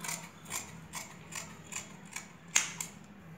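Scissors cut blouse sleeve fabric for puff sleeves, a series of short crisp snipping clicks at a steady rhythm, close and quiet, one sharper snip near the end.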